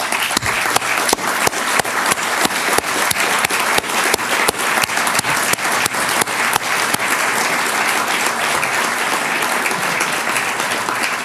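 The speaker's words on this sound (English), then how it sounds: "let's give them all a round of applause" Audience applause at a public event where Secretary Salazar announces federal land protection, a dense, steady crowd clapping with sharp individual claps standing out, loud and continuous throughout with no talk.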